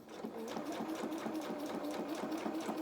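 A sewing machine stitching fabric runs at a fast, even rhythm, a continuous close mechanical chatter with no talk over it.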